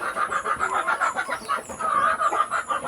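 Hungry pet chickens call noisily nearby, a dense run of repeated clucks and squawks overlapping without pause for the whole stretch.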